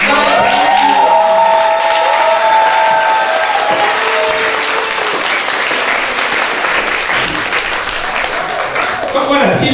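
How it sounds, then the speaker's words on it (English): Loud, dense applause from a large crowd at a school graduation ceremony, steady and sustained throughout with scattered cheers mixed into the clapping. "Keep the applause going, man."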